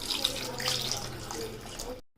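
Water runs from a tap into a pot of brinjal dal, a steady broadband rush under a quiet kitchen background before stopping abruptly.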